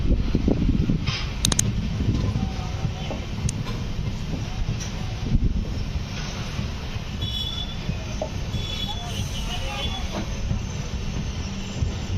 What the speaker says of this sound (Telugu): మన ట్రైన్ అయితే పిపరియా రైల్వే స్టేషన్ నుండి అయితే స్టార్ట్ అయిపోయింది.